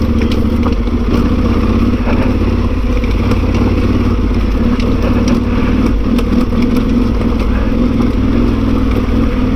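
An Aprilia Tuareg 660 motorcycle climbs a gentle slope on a slimy trail, its engine holding a steady, loud mid-range drone close up, with rattling clatter from the rough ground and no talk.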